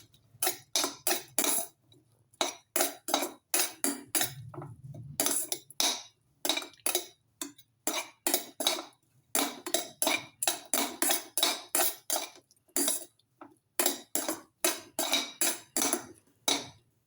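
A spoon beats eggs with salt and cumin in a bowl, giving fast, steady clinking strokes in quick bursts with short pauses, close and crisp, with no talking.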